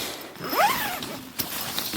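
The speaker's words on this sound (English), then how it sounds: "Joins up in the middle there with 3 zips." The zipper on the mosquito net of a budget Mil-Tec two-person iglu tent is pulled in one quick rising zip, followed by a few faint clicks and rustles close by.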